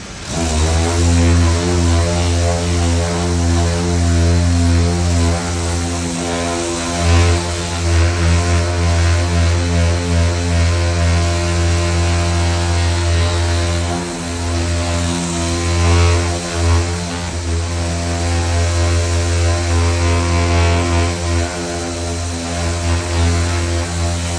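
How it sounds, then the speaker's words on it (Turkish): A loud, steady motorized whine drones continuously for the whole stretch, with slight rises and dips as the power sander works against a plastic car bumper. "Onları yine zımpara yapacağım."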